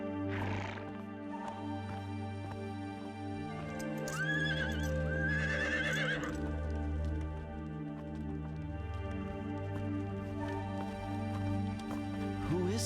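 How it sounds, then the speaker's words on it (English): A horse neighs and whinnies loudly several times, shrill drawn-out calls rising and falling over a backdrop of dramatic orchestral music. "I must see to my horse."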